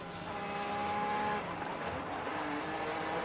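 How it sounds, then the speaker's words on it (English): An IndyCar race car at Road America during the 2024 XPEL Grand Prix lifts off the throttle and brakes, its engine a steady, dense, high-pitched roar heard at a distance throughout. "So Newgarden gets out of the throttle, tries to hit the brakes."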